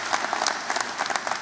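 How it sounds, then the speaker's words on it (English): Sustained applause from a large audience at a university graduation ceremony in Hanoi, a dense, even clatter of many hands clapping continuously with no voices over it. "Let's give another big round of applause."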